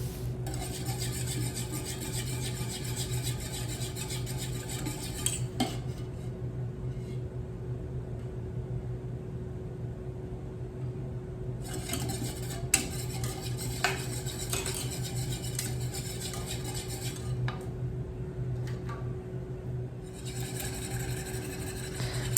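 A whisk beats chocolate mousse mixture in a bowl set over a double boiler, giving a steady close scraping and clinking in bursts, paused for a while mid-way, over a constant low hum.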